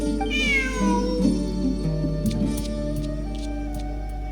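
A cat gives a single rising meow near the start, then electronic game sounds and soft clicks continue without speech, from Genshin Impact gameplay.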